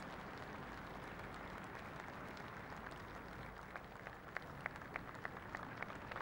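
Crowd applause for the Queen Mother at her 100th birthday parade, a steady wash of clapping that builds toward the end with sharper individual claps standing out.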